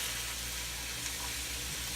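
Onions sizzle and fry steadily in a pan while being stirred, the start of a New England clam chowder; a constant close hiss with a low hum underneath and no talking.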